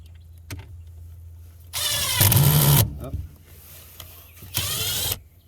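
Impact driver driving screws during a home building project, two loud bursts of rapid hammering whir about a second each, separated by a quiet pause, close by.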